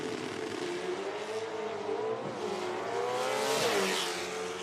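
A race car with a Ford 428 Cobra Jet FE engine revs hard and continuously at a drag racing event, its pitch rising and falling in several sweeps, loud and without talk over it.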